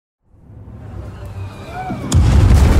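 Fireworks burst in the Hogwarts Legacy video game: a rising whoosh and faint whistle build up, then a loud booming blast hits and lingers with crackling rumble.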